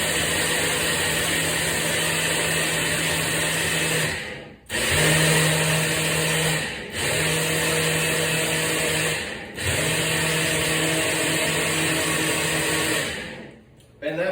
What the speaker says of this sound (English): And then we'll just come back and hit the Ninja Bullet again. Again, I'm going to do some pulses.